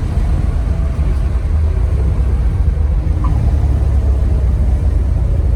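A 1970 Plymouth Cuda Hemi with a five-speed manual cruises in fifth gear, its engine a loud, steady low rumble with road and wind noise heard from inside the cabin.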